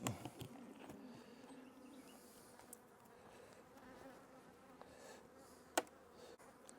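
A steady, close swarm of honeybees buzzes continuously around an opened hive, with a few sharp knocks and clicks of frames cutting through the drone.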